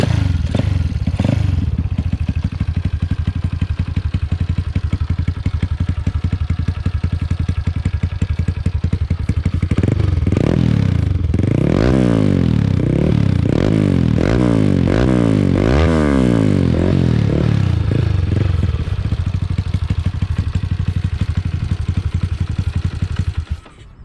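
A loud Honda Wave 125R motorcycle engine running on 95-octane fuel idles roughly, then revs up and down in repeated bursts before settling back, recorded up close with no talking.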